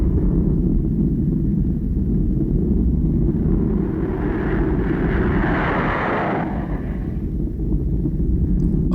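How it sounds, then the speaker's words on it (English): A deep, continuous jet engine roar from a Bell XP-59A aircraft rumbles loudly, swelling as a rushing jet-like whoosh builds in the middle and then fades away. "the first time they had heard the roar of a jet engine"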